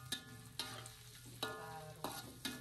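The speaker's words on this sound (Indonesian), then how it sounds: "Tumis semuanya sampai harum." Sliced shallots, garlic and thin-sliced spring onions sautéing in a pan, with a soft continuous sizzle and a few gentle stirring knocks, close but quiet.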